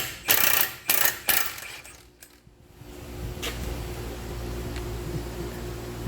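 A wrench removes a nut from a Jeep Patriot lower control arm bolt, giving three quick loud metallic clicks, then a quieter stretch with a low mechanical hum in the background.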